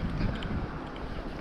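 Strong, cold autumn wind gusting across a wild riverbank on the Dniester during a carp fishing trip, a steady low buffeting roar against the microphone with no voices.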